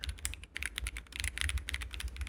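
Fast typing on an Akko ACR Pro Alice ergonomic mechanical keyboard, dense close-up key clacks in a quick, uneven rhythm with no talking.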